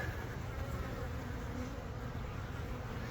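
Carniolan honeybees buzzing at the hive during an inspection, a dense steady hum of many bees, close and unbroken for the whole stretch.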